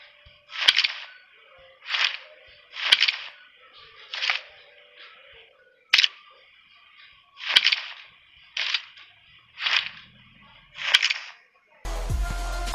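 M416 rifle scope zooming in and out in a video game, a series of about ten short sharp clicks and swishes spaced roughly a second apart, crisp and close, followed by a brief louder burst at the end.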